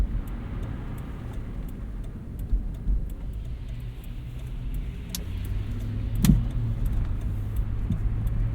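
A Lexus GX 460 on Cooper Discoverer AT3 4S tires rolls over slushy, snowy pavement, with a steady low road and engine rumble heard from inside the cabin and a few faint ticks and clicks.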